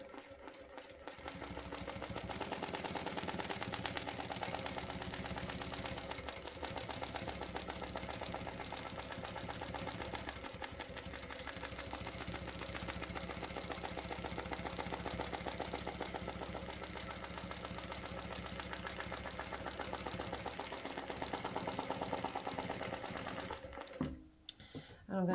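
Sewing machine stitching steadily along a stipple ruler template at the edge of quilted fabric, a continuous even mechanical whir with rapid needle rhythm lasting throughout, briefly stopping near the end.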